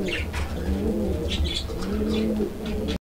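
A female Kaldom pigeon being handled as one of a pair, giving repeated close, low coos over a steady background, with brief rustling bursts and no talk.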